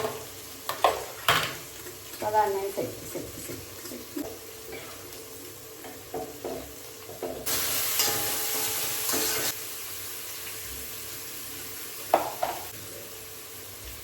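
Ingredients frying in a pan for a fish and okra curry, a soft sizzle broken by intermittent scraping and clinking stirs, with a louder hissing burst midway while a person talks over the cooking.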